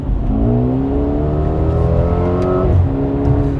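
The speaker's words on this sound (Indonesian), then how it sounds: "Ini sekarang saya di Sport Plus mode, kita gas." A powerful 2022 Mercedes-AMG GLA 35 engine in Sport Plus mode revs up steadily and then drops off, with a deep, loud exhaust note and a short burble at the end.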